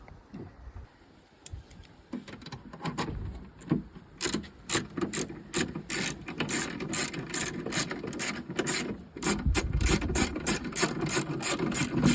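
A ratchet tightens an 8mm bolt on a BMW E90 tail light, giving runs of rapid clicking pawl strokes that grow louder and denser, with rubbing and handling noises in between.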